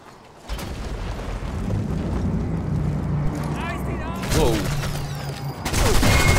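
In the World War II shooter Sniper Elite 4, a grenade is shot and detonates amid a battle; a steady roar of explosions and gunfire rumbles throughout, swelling with louder blasts near the end, while voices call out over the combat.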